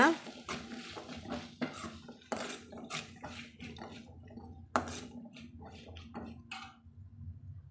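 A spoon stirring rajma bean masala sundal in a metal pan, with repeated close scrapes and clanks in an uneven rhythm, fairly quiet, and a voice speaking faintly in between.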